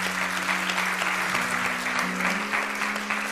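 An audience applauds after a card trick at a magic show, a dense burst of clapping that carries on steadily for a few seconds with a sustained tone underneath.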